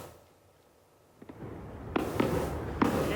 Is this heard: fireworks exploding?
yes